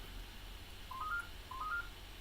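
A telephone in a house rings with two short electronic chirps in succession, moderately faint and slightly distant, set against a steady low background hum.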